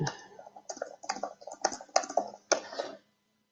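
Typing on a computer keyboard during an online webinar, a close burst of uneven key clicks and taps lasting about three seconds before going quiet.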